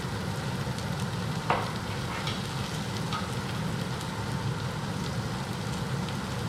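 Food sizzling steadily in a home kitchen frying pan, a constant close hiss with a couple of faint clinks and one brief sharp tap.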